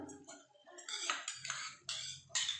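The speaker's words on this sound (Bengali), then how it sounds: "এই যে আমি বাটিটা একটু ধুয়ে অল্প জল দিয়ে দিচ্ছি" A small bowl is rinsed with a little water in a home kitchen while vegetarian matar paneer is being cooked, giving a string of close clinks and light knocks of utensils against the bowl, uneven in rhythm, with no talking.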